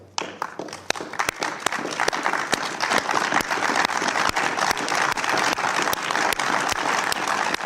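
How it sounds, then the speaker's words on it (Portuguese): Colleagues applaud in an assembly hall, a dense, sustained round of clapping from a large group that starts abruptly and holds steady at full strength, with no talking over it. "depois de alguns instantes, foi aplaudido pelos colegas"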